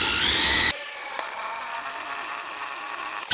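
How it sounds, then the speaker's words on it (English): Power drill driving a step drill bit through a hole: a loud high whirring whine with a sharp onset, then a steady bright screech of the bit cutting, close and alone without talk. "Still one of my favorite things in the world, step drills."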